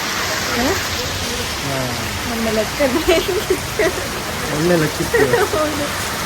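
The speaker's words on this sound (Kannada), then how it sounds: "ಮಳೆ ಜೋರಾಯ್ತು" Heavy rain pours steadily outdoors on a day out, a dense continuous hiss that stays loud throughout while people talk over it.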